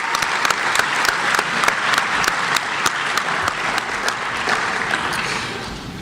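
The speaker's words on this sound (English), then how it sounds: "One more round of applause for Bill Ross, our Athletic Director." A crowd at a student-athlete awards ceremony applauds loudly and steadily, with sharp individual claps standing out from the dense clapping throughout.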